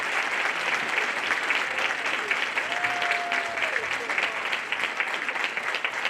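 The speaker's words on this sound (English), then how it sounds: "let's give them a round of applause" Sustained applause from a breakfast audience at an annual Martin Luther King Jr. commemorative event for award recipients, dense steady clapping filling the room throughout without a break.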